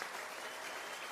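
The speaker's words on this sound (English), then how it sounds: "give yourselves a big round of applause" A round of applause from the audience at a civic honors ceremony held by the mayor for a former University of Louisville athletics director, a steady dense wash of clapping that fills the whole moment at moderate level.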